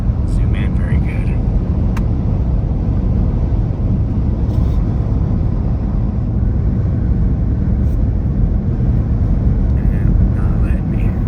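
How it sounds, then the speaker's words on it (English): Military helicopters flying along a highway: a continuous heavy rumbling drone heard from inside a moving vehicle, loud and steady throughout, with people talking over it. "Like we're being escorted up the highway by military helicopters."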